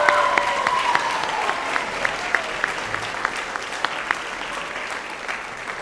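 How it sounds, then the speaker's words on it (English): Applause from the audience at an all-district school band concert in an opera house, moderate clapping that thins out over time as individual sharp claps stand out. "Let's give them another round of applause."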